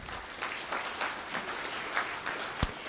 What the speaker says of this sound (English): Let's give Kay a big round of applause.